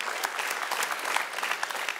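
A studio audience at a Malayalam game show claps in steady, dense applause that holds at an even level from start to finish, with no talking over it.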